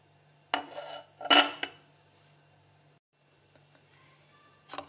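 Potatoes tumbling into a bowl while making chana chaat give two bright clattering bursts close by, a smaller knock after them and a last clink near the end, with quiet gaps between and no talk.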